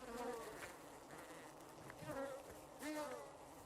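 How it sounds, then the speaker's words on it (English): Bees buzzing in the video game Arid, a droning swarm hum with swelling passes close by, fairly quiet, no speech. "Ah, bees. Why'd it have to be bees?"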